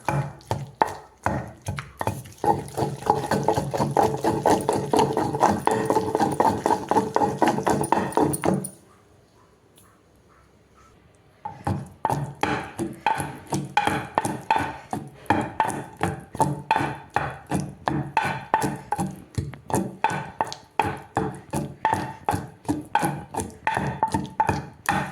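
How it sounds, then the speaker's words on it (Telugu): Steady rhythmic pounding and grinding of gongura chutney in a stone mortar, repeated regular strokes, loud and close, with a brief quiet pause partway through. "ఇప్పుడు పచ్చడి నూరుకోవడం అయిపోయింది"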